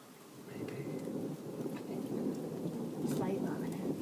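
A late-evening thunderstorm near the beach: steady rain patters throughout while rolling thunder rumbles overhead, building louder toward the end.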